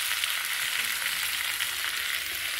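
Prawns cook in an oily spice masala in a pan, a brief, steady, close sizzle with light stirring and no talking.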